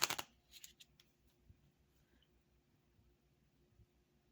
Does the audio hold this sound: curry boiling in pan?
no